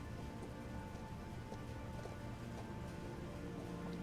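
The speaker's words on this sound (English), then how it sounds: "It will rain soon. I hear the water coming." Steady rain falls in an even, continuous hiss with a dense patter of drops and no pauses, filling the whole stretch with no voices.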